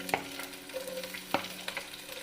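Ginger, garlic, green chili and onion go into spices frying in a pan for chicken stew. The pan gives a soft sizzle with two sharp scrape-and-stir strikes and light clatter. It is fairly quiet and there is no talk.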